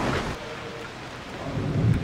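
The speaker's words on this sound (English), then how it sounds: "so it's raining now" Rain falls steadily during a storm in Assassin's Creed Odyssey while low thunder rumbles beneath it, the rumble swelling near the end.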